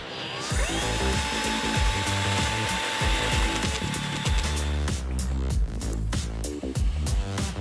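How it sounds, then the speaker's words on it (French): A power drill fitted with a mixing paddle churns mortar, a loud, steady motor whine over chunky rhythmic scraping and sloshing, with the motor pitch shifting partway through. "Pour bien mélanger, utilisez un mélangeur sur votre foreuse"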